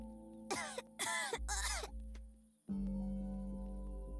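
Video game character coughing, three harsh, close coughs in quick succession over a quiet background hum.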